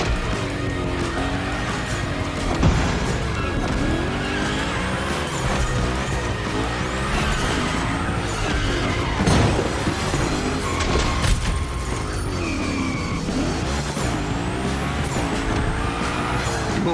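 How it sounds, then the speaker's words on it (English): A car sliding through gymkhana drills in The Crew Motorfest racing game: a loud, continuous engine roar with rising and falling revs and squealing tyres, layered with game effects throughout. "We're focusing on Gymkhana essentials, big slides and precision."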